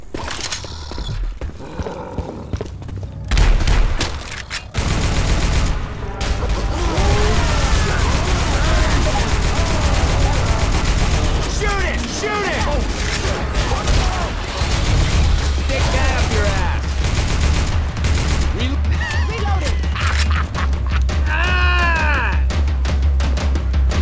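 Rapid gunfire rattles nonstop at a Tank in Left 4 Dead 2, loud bursts of automatic shooting mixed with game sounds while people talk and shout over the action.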